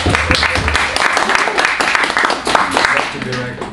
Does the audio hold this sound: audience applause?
yes